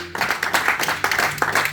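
Church congregation clapping in a steady, rhythmic beat during a French-language service, close and fairly loud, many hands striking together in time.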